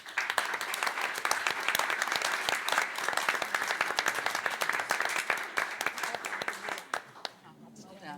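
An audience at a school board of education meeting applauds students from swim relay teams, a loud sustained round of dense clapping that runs for about seven seconds before fading into murmuring voices.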